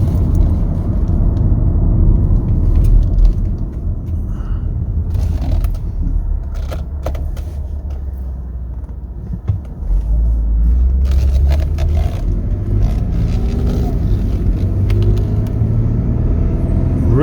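A 2019 Ford F150 XL regular cab pickup truck drives along, its steady low engine and road rumble continuous and loud throughout, with a few brief clicks and scrapes over the top and no talk.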